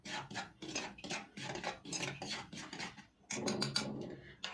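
Dry maida flour with a pinch of salt is stirred in a bowl as a coating for fries, making repeated close scraping, rustling strokes in a steady rhythm with no pauses.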